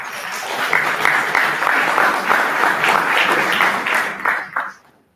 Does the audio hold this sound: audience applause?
yes